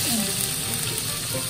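Wagyu beef pan-fries in a hot pan with a steady, close sizzle and crackle that runs unbroken through the short stretch, no talk over it.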